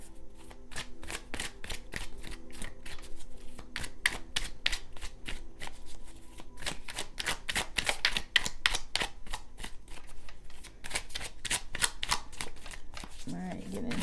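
Tarot cards being shuffled over and over, a long run of dense papery riffles and snaps close up, with brief pauses between bursts and a voice speaking faintly at the end.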